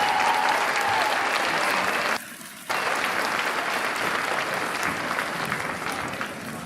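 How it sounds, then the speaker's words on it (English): Loud, continuous applause from a school arts festival audience for a front percussion group, with a brief dip partway through before the clapping picks back up and carries on. "Give them a round of applause, please."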